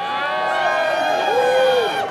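An audience at a live speed-painting show cheers and whoops together in a sustained, loud burst of overlapping voices.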